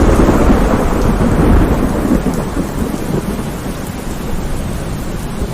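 Heavy rain pours steadily in a loud, close wash while thunder rumbles low beneath it during a violent storm outside a haveli, with no voices.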